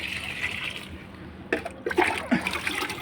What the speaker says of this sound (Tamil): தண்ணி ஊற்றினா இந்த ஸ்டாண்ட் வழியாக இருக்கிறது இங்கே கீழே வந்துடும்